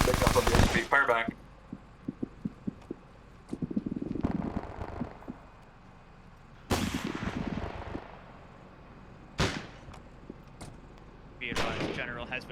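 Gunfire in an Arma 3 Antistasi battle: sharp bursts and single shots crack at intervals, some close and loud, others farther off, with radio-style voices talking between them.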